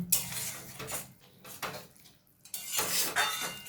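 A spoon scrapes and clinks against a metal pot while fish-head dal made with katla fish head is stirred, in several bursts of clatter with short quiet gaps between them.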